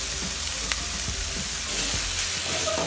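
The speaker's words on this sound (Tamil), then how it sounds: "லீக்ஸ் போட்டுட்டு நல்லா அப்படியே நல்லா வதக்கிக்கிறேன்" Leeks sautéing in a pan for a tin fish cutlet, a continuous loud sizzle and hiss with faint scrapes from stirring throughout, no talking.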